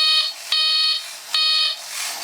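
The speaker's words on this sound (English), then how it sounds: "And that is your buzzer robot." A vintage toy buzzer robot gives loud, harsh electric buzzes at close range, two long bursts each starting with a sharp click, with quieter gaps between them.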